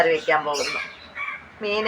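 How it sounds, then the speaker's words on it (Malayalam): A crow caws repeatedly just outside an open kitchen, harsh squawking calls coming in short bursts with brief gaps between them, fairly close and loud. "കാക്കമ്മയെ ഹാ കാ എന്ന് പറഞ്ഞിട്ട് കരഞ്ഞുകൊണ്ടിരിക്കുന്നു"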